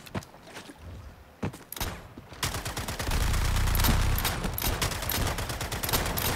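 Gunfire in the video game Suicide Squad: Kill the Justice League: a few scattered single shots at first, then a dense, sustained rapid-fire barrage roars loudly for the remaining seconds.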